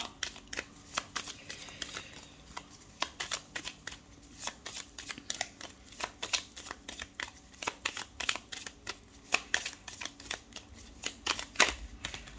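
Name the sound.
tarot cards being shuffled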